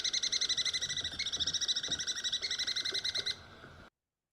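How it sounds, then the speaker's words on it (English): A golden-mantled ground squirrel gives a fast, steady series of high, sharp chirps, about thirty evenly spaced notes over a few seconds, clear and close, ending abruptly into silence. "Here's the golden-mantled ground squirrel."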